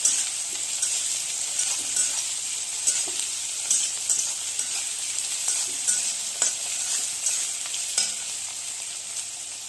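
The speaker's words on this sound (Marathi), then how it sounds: "एक दोन मिनटं परतून घेऊया" Egg and tomato mixture sautéing in a pan, a steady bright sizzle with regular scraping strokes of a spatula stirring through it, close and fairly loud, no voices.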